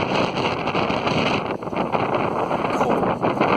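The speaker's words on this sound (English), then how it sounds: "it's very, very windy." Strong wind at Venice Beach buffets the microphone in a loud, continuous roar that gusts and dips, with no voices over it.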